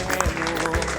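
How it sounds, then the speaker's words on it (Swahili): Mourners at a funeral life celebration clap together in a steady, dense wash of applause that fills a short moment, loud and continuous with a few sharper hand strikes standing out. "Tumpe Yesu makofi mazuri kwa ajili ya kijana."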